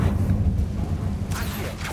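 A Confringo blasting spell is cast in the Hogwarts Legacy video game during a relic boss fight, bursting out as a sudden loud fiery whoosh and rumble over steady low game ambience.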